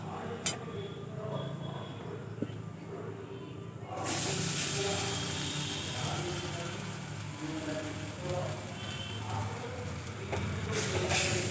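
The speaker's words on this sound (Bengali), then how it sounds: "এখন আমি গ্রেট করে রাখা আলুগুলো দিয়ে দেব।" Grated raw potatoes drop into a pan of fried spices, setting off a sudden loud, steady sizzle that hisses on continuously with no talk.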